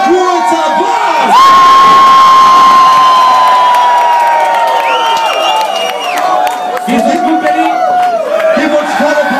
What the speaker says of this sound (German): Mach mal einen dicken Applaus für Kuro Zabar!